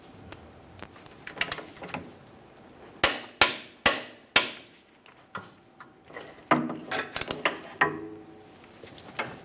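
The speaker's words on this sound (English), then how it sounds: "Now once it's snug, torque it to 111 foot-pounds." A wrench works on an 18mm mounting bolt on the rear lateral link of a 2009-2019 Ford Flex. Four loud, sharp metallic clicks come in a quick series, scattered with lighter tool knocks and clatter at close range. No one speaks.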